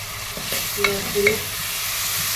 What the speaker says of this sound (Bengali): লবণটা দিলে পেঁয়াজটা ভাজা হয় সুন্দর তাড়াতাড়ি।